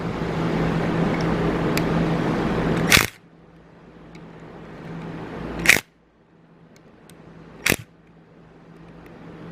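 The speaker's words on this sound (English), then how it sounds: "so I've got our little impact driver" A Milwaukee impact driver loosens tight bolts on a Yamaha FZ6R motorcycle. A dense hammering whir runs for about three seconds and cuts off sharply, followed by two brief, sharp clicks or bursts with quiet gaps between them.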